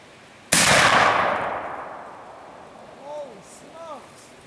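One booming black powder gun shot fired outdoors while zeroing, a loud close blast followed by a long fading rumble, then faint distant birdsong.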